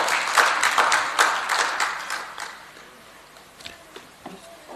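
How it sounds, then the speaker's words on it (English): A conference audience at a national dialogue on the right to food in Malawi applauds with dense, loud clapping that fades over a few seconds into scattered, closer individual claps. "Let's also give a huge round of applause, ladies and gentlemen."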